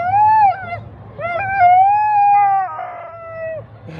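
A sled dog at the Fur Rondy race start on 4th Avenue in Anchorage sings out in long, wavering howls, loud and near, rising and falling in a few drawn-out phrases.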